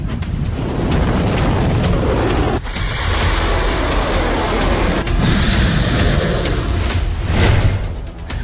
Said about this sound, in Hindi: इजराइल में ईरान की जुल्फिकार मिसाइलों के धमाके